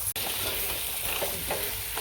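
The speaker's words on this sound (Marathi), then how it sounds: "एक 5 मिनिटं वांगे छान आपण मसाल्यामध्ये परतून घेतलेले आहे" Stuffed eggplant sautéing in masala in a pan, giving a dense, continuous close sizzle with faint stirring textures throughout and no talking.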